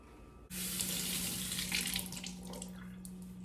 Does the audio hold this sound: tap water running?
yes